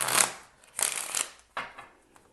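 Tarot cards shuffled by hand in three quick riffling bursts, each a soft papery flutter that fades out, close and fairly quiet with brief pauses between.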